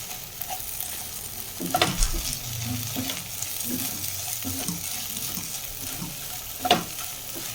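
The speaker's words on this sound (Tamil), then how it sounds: "அடி பிடிக்காமல் வந்து கிண்டிகிட்டே இருங்க" Egg frying in a pan for egg rice is stirred with a utensil, giving steady close sizzling with scraping strokes and a few louder clanks against the pan, no voices.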